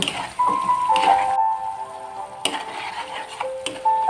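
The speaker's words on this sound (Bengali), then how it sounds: "খুবই সুন্দর করে একটু হালকা করে ভেজে নেব" Whole garlic cloves fry lightly in a pan for a chicken dish, giving a steady close sizzle broken by sharp stirring clinks and scrapes, with no voices.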